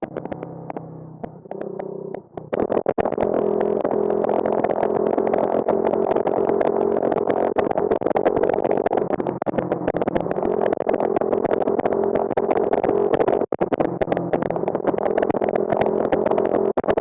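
A supercharged Honda postie motorcycle engine runs with a steady, loud throbbing hum that holds for most of the stretch after a brief quieter start, with no talking.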